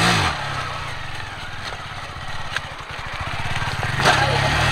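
Motorcycle engine revving during a wheelie, a close buzzing mid-pitched engine note with rhythmic pulsing that rises and falls as the throttle changes, with people talking over it.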